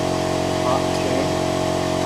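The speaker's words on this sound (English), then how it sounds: "Now you can hear my compressor running." An air compressor runs in a home workshop during a bicycle tire change, holding a steady, close, droning motor hum with a constant pitch throughout.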